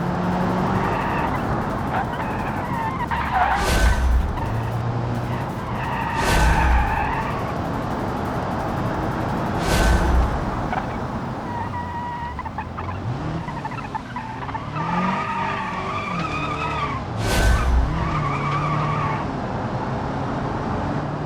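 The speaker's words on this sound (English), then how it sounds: "Just a little bit of wheel spin there." Car wheels spin and tires squeal repeatedly in the BeamNG racing simulation, a steady engine drone broken by several loud screeching bursts spaced across the run.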